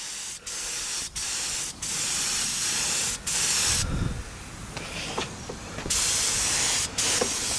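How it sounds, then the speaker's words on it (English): Aerosol spray paint hisses onto a mic stand in close, loud bursts, several short sprays separated by brief pauses, then longer sustained blasts. "I've done it on my speaker stand, so it don't really matter if there's any overspray"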